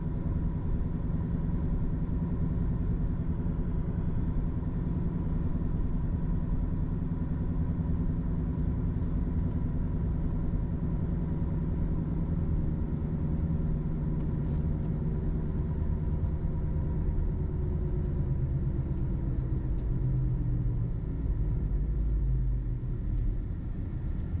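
A 2010 BMW 535i inline-six turbo engine while driving, a steady low rumble with road noise heard from inside the cabin, holding constant then slowly dropping in pitch near the end.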